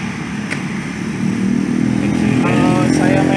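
Honda HR-V engine running with an HHO fuel saver fitted, a close, loud idle that rises into a rev, with people talking over it.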